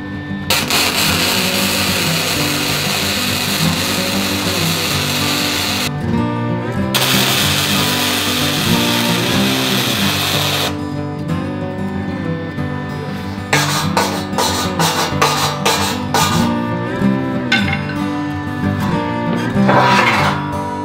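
A 230 amp flux-core wire welder crackles and buzzes in close, harsh stretches, stopping and starting several times between short pauses in the middle of a yard project.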